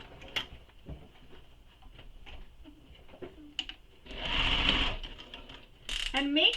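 A sewing machine stitches bag pieces together, running in short mechanical bursts of whirring and clicking with pauses between, then a longer steady run near the end, close and clear.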